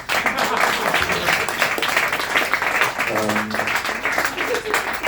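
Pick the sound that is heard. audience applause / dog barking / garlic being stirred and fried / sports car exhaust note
audience applause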